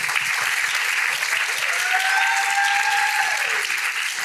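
An audience at a panel discussion breaks into sustained, dense applause to welcome a speaker, a steady wash of clapping from many hands throughout.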